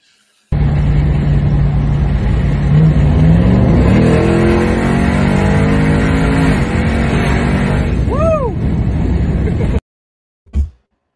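A powerful car accelerates hard at full throttle, a loud rising engine roar with climbing gear tones that runs steadily for about nine seconds before cutting off, followed by a brief squeal near the end.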